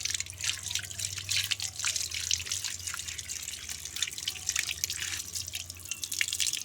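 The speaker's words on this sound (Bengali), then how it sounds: "এটা ভালোভাবে ধুচ্ছে আমার মা।" A large ripe papaya being rinsed under running water makes a soft, continuous splashing and dripping trickle, fairly faint and steady, with a low hum beneath and no talking.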